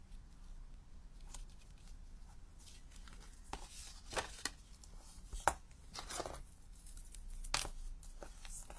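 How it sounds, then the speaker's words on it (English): Tape is torn and handled while a paper card is assembled: scattered short rips, crinkles and light rustling taps spread across a quiet room, fairly faint and close, with no voices. "So we're just going to put some tape on that one."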